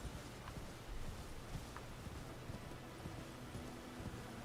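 A horse's hooves clip-clop in the Elden Ring video game, a faint, steady walking rhythm set low under a constant background hiss, with no speech.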